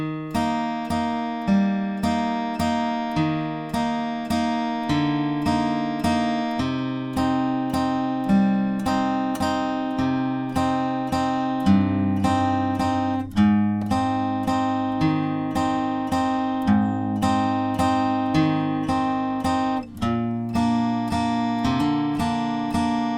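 A guitar riff from a song: plucked, ringing notes picked in a steady repeating pattern that cycles over and over, close and clear, with no voices.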